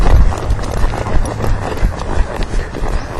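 Horse hooves clip-clopping steadily during a riding lesson, a fast continuous rhythm of footfalls at trot or canter, loud and close with a little background noise and no clear talking.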